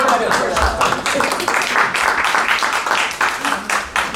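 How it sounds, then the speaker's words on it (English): Steady applause from an audience at a community meeting fills the whole stretch, a dense wash of many hands clapping at an even level with no pauses. "Let's give her a round of applause."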